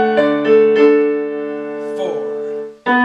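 A piano plays a short section of a popular song, a few sustained chords struck and left ringing, with a pause and another chord at the end.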